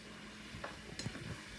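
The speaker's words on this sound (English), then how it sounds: "I'm going to cook all of my chicken together with my sausage" Chicken pieces and sausage fry together in a pan while being stirred, a faint steady sizzle broken by a few soft scraping taps of the utensil.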